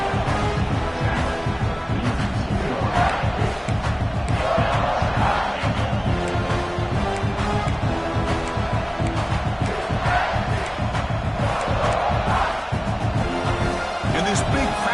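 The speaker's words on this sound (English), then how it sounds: "This big crowd doing everything possible to inspire this defense down here near the goal line." A big stadium crowd roars continuously in College Football 26 during a goal-line stand, the loud cheering running throughout under a play-by-play commentator's voice.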